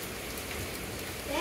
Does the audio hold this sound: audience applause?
no